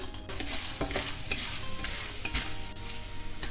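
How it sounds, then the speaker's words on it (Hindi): Edible gum (gond) pieces frying in a pan of hot fat, with a busy continuous sizzle and crackle, punctuated by several close clinks and scrapes of stirring, no talking. "ये गोंद तो बहुत अच्छे से फ्राई हो चुका है"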